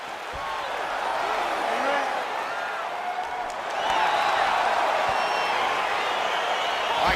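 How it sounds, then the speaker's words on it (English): Broadband crowd roar from the arena audience at a UFC fight in EA Sports UFC 4, steady and loud throughout and swelling noticeably about halfway through, with no clear voices above it. "crowd getting excited as this fight gets underway"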